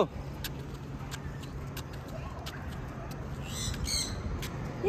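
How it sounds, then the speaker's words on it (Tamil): Sparrows chirp in short, bright, scattered calls, clustering near the end, above a low steady hum of passing road traffic in Mettupalayam, with faint voices in the background. "குருவிலாம் இருக்கு."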